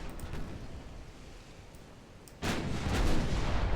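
Naval guns fire armor-piercing shells in the warship game Ultimate Admiral: Dreadnoughts, with a low rumbling lull followed by a sudden loud, heavy blast that rolls on to the end.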